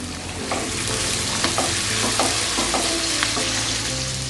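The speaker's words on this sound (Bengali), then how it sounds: "মিনিট খানেক আমি পেঁয়াজ কুচি ভেজে নিয়েছি" Chopped onions fry steadily in a pan with salt, a dense continuous sizzle with soft stirring clinks scattered through it, close and fairly loud with no talk.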